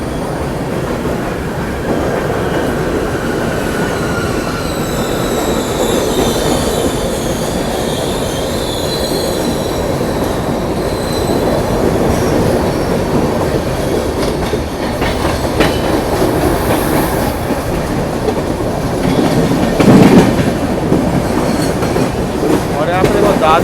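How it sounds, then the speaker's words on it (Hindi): The Mahalakshmi Express rolls into Dadar station in Mumbai, a loud continuous rumble of wheels with high squeals and clattering on the rails, station ambience around and a voice talking underneath. "महालक्ष्मी एक्सप्रेस यहाँ पे आ रही है दादर में"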